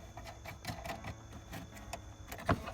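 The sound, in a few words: tightening the bolts on a BMW E46 taillight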